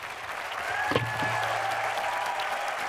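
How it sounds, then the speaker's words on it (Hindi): An audience at a literary festival conversation session breaks into a sustained round of applause, steady and fairly loud throughout, with a brief thump near the start. "जो तालियों की गूंज है तो तालियों की गड़गड़ाहट है"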